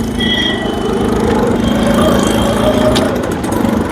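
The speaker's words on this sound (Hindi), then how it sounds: "तो देखिए गाड़ी अब बढ़ रही है" A 25-year-old scooter's small engine runs steadily while being ridden along, a continuous buzzing drone with a faint squeal and brief clatter partway through, close and alone without talk.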